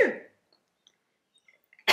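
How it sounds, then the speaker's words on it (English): A single sharp human sneeze bursts out at the very start, followed by near silence and then a short vocal sound at the end. "I think I need to sneeze."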